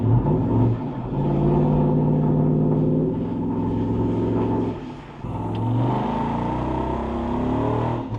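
A Hemi V8 truck engine revs hard while off-roading, a loud, close, deep rumbling roar that surges, dips briefly near the middle and climbs again, with no talk.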